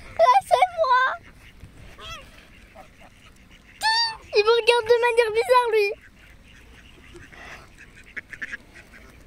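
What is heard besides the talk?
ducks quacking around the speaker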